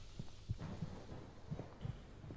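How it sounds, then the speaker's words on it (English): A low, thudding heartbeat plays as a sound effect in the horror video game Schizo, pulsing in a steady double-beat rhythm under a dull ambient hum, muffled and fairly quiet with no talking. "Oh my god, I can hear my heart beating."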